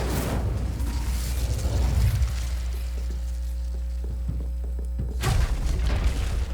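Incendio, the fire spell in Hogwarts Legacy, goes off as a loud whooshing burst at the start and another near the end, with a low, steady rumble and faint tones between them.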